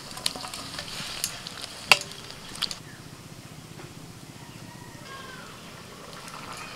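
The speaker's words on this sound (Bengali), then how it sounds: "এবার দিচ্ছি চালটা।" Rice is added to boiled dal in a cooking pot with some extra water, giving a few sharp clinks and a soft rustling pour, then a quiet bubbling stir with no talking.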